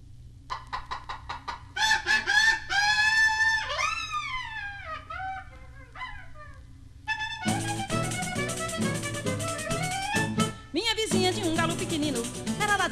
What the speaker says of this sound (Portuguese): aquele galo garnizé